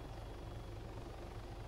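Helicopter engine in Arma 3, a light hummingbird-type chopper: a steady, faint rotor thrum with a rhythmic low-frequency pulse and whine, droning continuously throughout.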